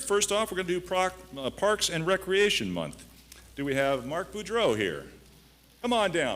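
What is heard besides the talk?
None of the usual background noises is heard.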